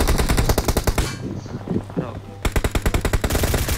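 Rapid bursts of automatic gunfire from a shooter video game, loud and close, with a brief pause in the middle where a voice talks under fainter shots before another long rattling burst resumes.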